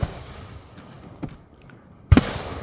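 Fourth of July fireworks bang at a distance in the night, with a faint thump early on and a sharper, louder burst near the end over quiet background.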